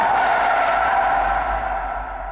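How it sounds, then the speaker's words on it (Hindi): Tires skid as a car brakes hard to a stop, a loud sustained screech with steady rumble, no talk over it. "स्टॉप स्टॉप, गाड़ी रोको।"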